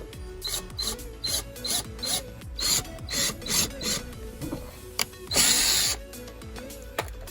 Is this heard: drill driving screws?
yes